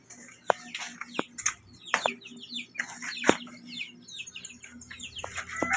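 Two roosters cluck and call in a close, busy run of bird sounds, sharp calls scattered over steady chatter from a backyard flock of chickens.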